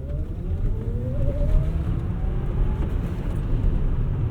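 A 2017 Tesla Model S 100D launches from a four-way stop, giving a steady loud electric-motor whine that rises in pitch over heavy road and wind rumble inside the cabin.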